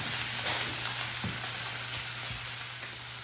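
Pork tenderloins sear in a hot pan with rosemary, giving a continuous close, even sizzle and crackle with a few soft pops, and no voices over it.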